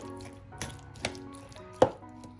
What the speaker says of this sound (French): Donc patiemment, on va tout hacher.